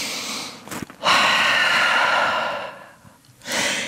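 Deep, slow breaths drawn and released while holding a downward dog yoga pose: a long airy exhale swelling then fading, a short sharp intake before it and another breath starting at the end, close and without talk.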